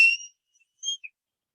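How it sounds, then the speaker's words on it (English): An acorn cap whistle blown across a V notch gives short shrill tones: one sharp blast, then a pause and two quick fainter chirps, close and alone. "And there's an acorn whistle."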